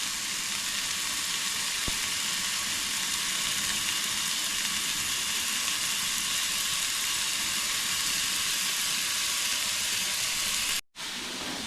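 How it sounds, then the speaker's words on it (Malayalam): Chicken tikka pieces grilling in a hot pan, giving a steady, even sizzle and hiss that carries on unbroken for about eleven seconds, broken only by a brief cut near the end. "ഒരു സൈഡ് ഗ്രില്ലാകുമ്പോൾ ഒരു തിരിച്ചിട്ടിട്ട് മറുവശം കൂടെ ഗ്രില്ല് ചെയ്ത് എടുക്കണം."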